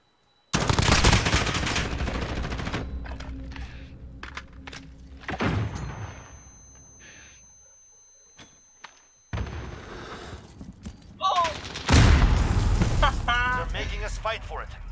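Rapid video game gunfire bursts and blasts from a competitive shooter match, loud and dense at the start, thinning to sparse shots, then a fresh burst near the end, with players talking over the action.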